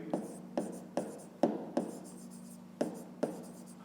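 A pen or pencil writes out a fifth-grade math solution on paper, with a quick series of sharp scratching strokes and taps, close and fairly quiet.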